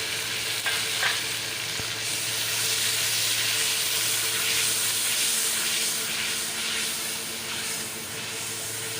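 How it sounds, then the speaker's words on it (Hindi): Steady, close sizzling of onion paste frying in a pan with garlic, with occasional stirring scrapes; continuous and fairly loud with no talking. "लहसुन तो फ्राई हो गया, अब ये प्याज का पेस्ट शामिल कर रही हूँ"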